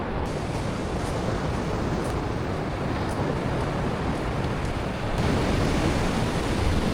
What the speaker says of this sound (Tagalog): Lakas ang alon, no?